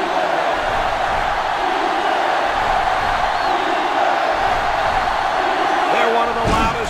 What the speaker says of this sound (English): They're one of the loudest crowds in the country, and they are on their feet